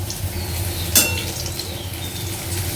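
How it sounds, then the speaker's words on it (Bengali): Bora fritters fry in hot oil with a steady, close sizzle, and a single sharp metallic clink of a utensil against the pan rings out near the start. "আর এখানে বড়াটা ভাজছি।"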